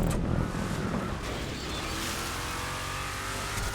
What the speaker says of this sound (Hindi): चल रही है भाई गाड़ी